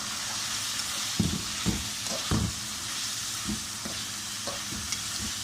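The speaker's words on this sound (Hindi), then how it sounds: "5 मिनट मसाले में भूनेंगे। मसाले को अच्छी तरह मिक्स कर देंगे।" Chicken frying in spices for korma, a steady quiet sizzle broken by several soft scraping and clanking strokes as the pan is stirred at irregular intervals, with no talking.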